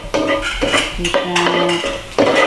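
A metal utensil scrapes and clanks in a cooking pan while shallots and garlic are stirred, giving close, loud, repeated scraping strokes with a faint sizzle beneath.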